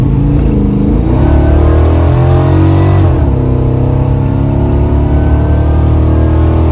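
Car engine with a rough-running fault, loud and close, idling and then revving in rising and falling sweeps with no talking.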